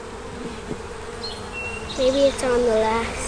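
Honey bees buzz on a hive frame during an inspection, a constant close humming drone with rising whiny pitches as individual bees fly near, while a person speaks briefly over it.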